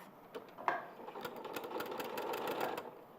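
A sewing machine stitches zigzags with a fast, steady mechanical whirr close by, starting with a click and running continuously for about three seconds.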